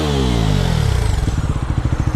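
A Bajaj NS 400Z motorcycle engine revs loudly up close, the pitch dropping as the throttle eases, then settling into a pulsing, throbbing idle with no voices.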